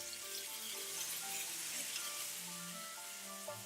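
Stuffed bitter melon with minced pork fries in oil in a pan, giving a soft, continuous sizzle with light crackling pops up close, and no talking.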